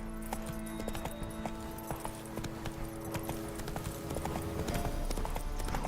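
Roach the horse galloping in The Witcher 3, a quick regular clip-clop of hooves under game music and ambience, growing slightly louder toward the end.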